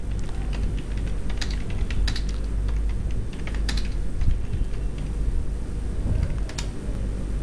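Fingers type on a computer keyboard while writing a bulleted list in Microsoft Word 2007, rapid close clicks and taps over a steady low room hum.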